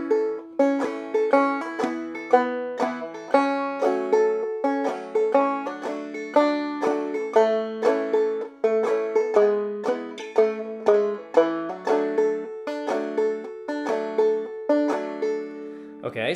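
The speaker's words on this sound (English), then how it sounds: "our solo version with that pattern thrown in sounds like this" Clawhammer banjo playing a solo arrangement of a song with a syncopated skip pattern and slides, bright rolling plucked notes in a brisk, continuous rhythm, close and unaccompanied.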